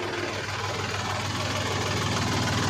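A tractor engine idles on a college road during early-morning plant watering, giving a steady, even low rumble with a constant hum that holds unchanged from start to finish.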